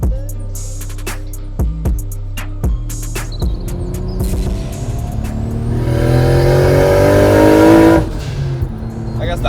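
Nissan Stagea 260RS with a 60mm turbo making 400 wheel horsepower, blipped in short revs before climbing in a long, loud rising run toward 8,000 RPM, then dropping off abruptly.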